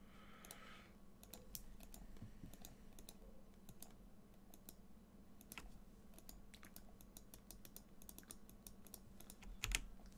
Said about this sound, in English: I'm a fast one at typing, to say the least.